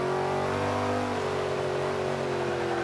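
A Ford Mustang engine revs in the racing game Forza 5, a steady loud mid-pitched drone with rising and falling harmonics, close and continuous with no talk.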